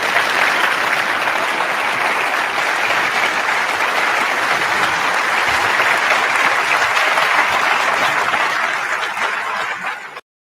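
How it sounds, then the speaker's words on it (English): An audience at the end of a TEDx talk, many on their feet, gives sustained, dense applause that stays loud and even for about ten seconds before cutting off abruptly. "it's a good portion of the audience is standing up and clapping."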